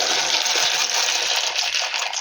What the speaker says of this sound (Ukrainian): І тепер буду сюди засипати макарони, коли вода закипіла.